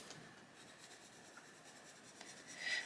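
Caran d'Ache coloured pencil is worked across paper to fill in a flower drawing, a faint, steady scratchy rubbing of short strokes, close up and with no one talking.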